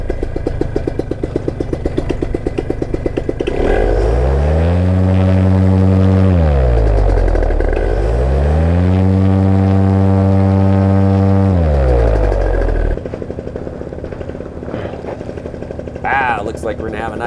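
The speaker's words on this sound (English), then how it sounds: "today I get to try out the brand new 2015 air trike with a brand new 2015 flat top Ninja" A 2015 paramotor air trike with a flat top Ninja engine roars loud and close, revving up twice in long swelling surges with a deep propeller drone, then dropping back to a rougher idle near the end.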